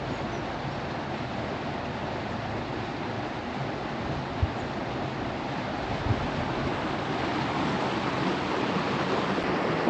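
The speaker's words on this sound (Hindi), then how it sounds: "जैसे पानी कैसे जा रहा है।" Floodwater rushing steadily through a flooded aquatic garden during the 2020 Hyderabad floods, a loud continuous broadband roar with no talk.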